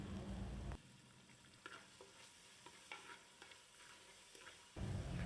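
Onion, tomato and salt cook in a mustard-seed tempering for a Mangalore-style mackerel masala, with a soft sizzle and a string of quiet spoon scrapes and taps. Louder frying bursts open and close the passage.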